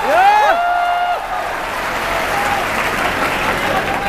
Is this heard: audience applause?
yes